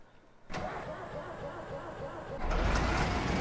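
Ikarus EAG 395.12 bus engine cranking and catching in the OMSI 2 simulator, settling into a steady diesel idle after a brief starter burst, then swelling louder toward the end.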